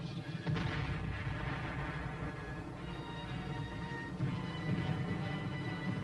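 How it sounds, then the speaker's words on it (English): Distant artillery and mortar fire from an old army combat film plays as a low, rumbling barrage with a continuous muffled roll, faint and slightly hissy, without separate sharp blasts standing out. "Directed by their own forward observers, the artillery and motor units inch their fire slowly forward"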